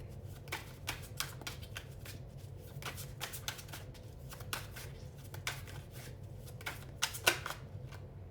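Tarot cards are shuffled by hand up close, a quick run of soft riffling snaps and flicks coming in irregular bursts, fairly quiet, with no talking.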